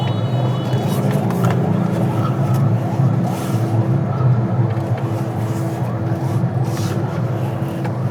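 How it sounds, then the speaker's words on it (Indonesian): Steady road-traffic drone in a congested street jam heard from inside a car, a continuous low engine and tyre rumble with a faint sustained tone, loud and unbroken throughout with no talking. "jalan udah macet kayak begini"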